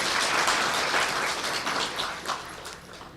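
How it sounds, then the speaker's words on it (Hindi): An audience claps together at a spiritual meditation class, a steady wash of applause from a roomful of people that holds level for a few seconds and slowly thins toward the end. "तो अपने लिए ताली बजाओ"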